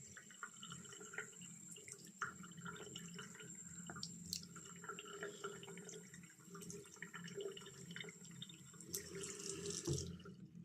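Water pours steadily into a jar, running and splashing close by for the whole stretch, with no one talking.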